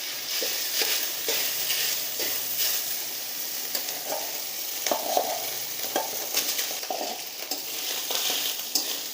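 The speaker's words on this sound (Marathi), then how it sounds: "थोडा असा परतून घ्यायचा म्हणजे फोडणी करपणार नाही" Leftover rice is stir-fried in a pan over a mustard seed, cumin and turmeric tempering, with a steady sizzle under repeated scraping strokes of a spoon, close and continuous, no talk.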